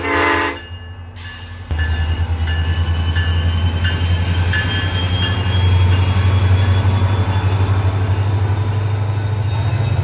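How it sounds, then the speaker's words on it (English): A SunRail commuter train pulls out of an Orlando-area station, a horn blast giving way to a loud, steady rumble of wheels and engine with faint squealing, close and continuous. "And here is this Sunrail leaving the station,"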